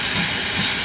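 A train pulls out of Kingswear near Dartmouth with a loud, steady hiss and a low rumble underneath. No voices are heard.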